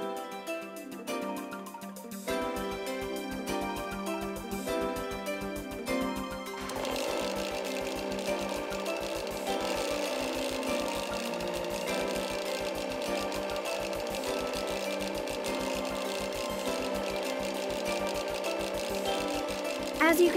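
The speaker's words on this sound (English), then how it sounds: "Now let us examine, using this machine, the locking force of normal nuts, double nuts, and hard lock nuts." A vibration test machine shakes normal nuts, double nuts and hard lock nuts to test their locking force, giving a fast, steady mechanical rattle and hum that starts softly, builds after a couple of seconds and continues loudly throughout.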